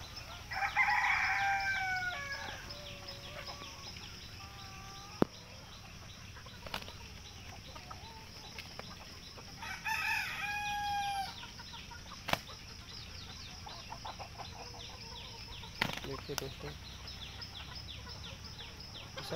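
Desi fighting roosters on a free-range country poultry farm crow in long calls that rise and fall, with clucking and sudden wing flaps between them, heard from a moderate distance against a quiet outdoor background.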